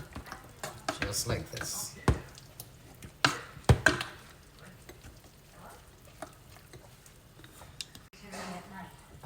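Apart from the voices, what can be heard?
mashing food with carnation milk while cheese melts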